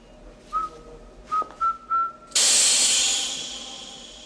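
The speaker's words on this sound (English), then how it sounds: "Stun gas. Effective range, about 5 feet." A stun-gas gadget lets out a loud, sudden hiss of spraying gas that starts abruptly and fades slowly, preceded by a few short whistled notes, in a James Bond film scene.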